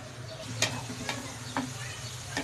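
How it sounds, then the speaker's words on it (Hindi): Onions fry in a pan for Lahori chickpeas, a steady close sizzle with a few sharp scraping stirs of a spoon against the pan. "प्याज को अच्छी तरह फ्राई करेंगे।"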